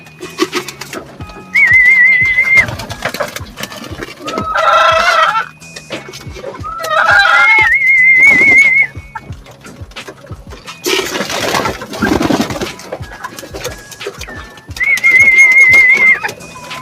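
Racing pigeons arriving at a loft coo and flutter up close, with repeated warbling coos, wing flaps and a few clucking calls in short bursts.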